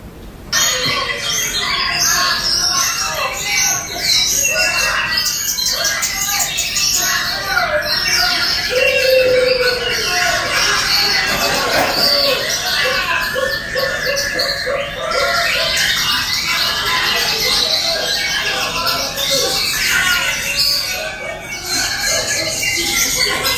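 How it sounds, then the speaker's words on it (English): Dense, continuous chorus of caged songbirds singing together at an Indonesian bird song contest, loud and overlapping whistles and trills filling the whole stretch, with crowd noise beneath. "people buy birds, and then they enter them into tournaments to see which bird has the best song"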